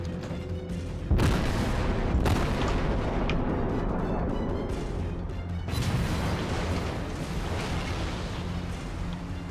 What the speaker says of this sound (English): there is going to be return fire incoming very shortly